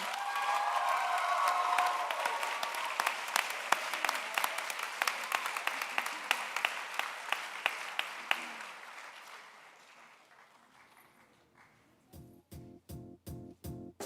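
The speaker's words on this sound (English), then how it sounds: "one big last round of applause for the class of 2021" Applause from the crowd for the graduating class of 2021 at the American Community School of Abu Dhabi high school graduation ceremony, loud and sustained, then fading out before a few distinct rhythmic beats at the end.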